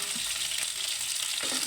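Fish frying in a pan, a steady hiss and crackle of hot oil close by with a few soft stirring clicks, no voices.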